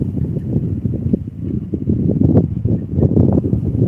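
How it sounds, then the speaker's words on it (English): Gusty wind rushing in ahead of an approaching storm, a steady low roar with buffeting swells that rise and fall close to the microphone, continuous throughout without talk. "we got the wind blowing in now"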